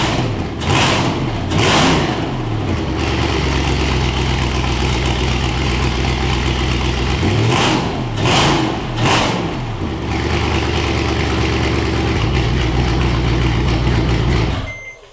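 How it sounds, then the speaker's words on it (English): A Mercedes E55 engine runs close by in a workshop, a loud continuous rumble with several sharp revs rising and falling over about fifteen seconds. "starting the engine like right outside the car"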